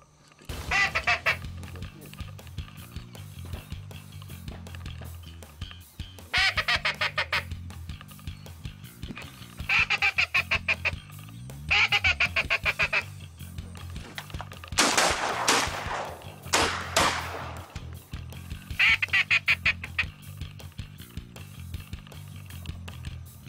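Ducks and geese call in bursts across a vegetated hunting marsh, repeated honks and quacks coming in clusters over a low steady background, fairly close, with no talk over them.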